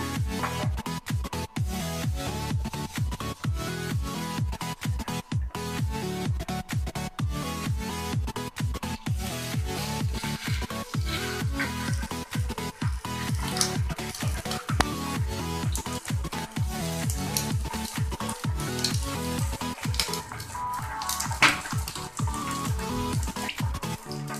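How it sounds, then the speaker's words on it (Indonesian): Seasoned carp fried in a pan of hot oil gives a dense, steady crackle and spatter of popping bubbles that continues without a break, close and fairly loud. "Jika ikan sudah meresap bumbunya, langsung kita goreng. Tuang minyak secukupnya."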